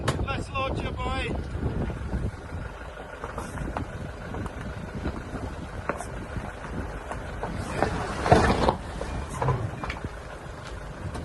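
Small fishing boat launched into an incoming tide on the UK coast, with water sloshing and splashing against the hull amid heavy wind buffeting on the microphone and a louder burst of water near the end.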